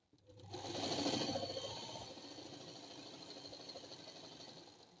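Sewing machine running a line of top stitching on a ladies' salwar pant, a steady, close mechanical whir that starts after a brief pause and holds an even, continuous pace.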